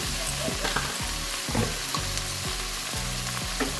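Chicken pieces sizzling and frying in a pan for an Indian chicken tadka, with steady hiss and repeated scraping stirs every half second or so, close and alone without talk.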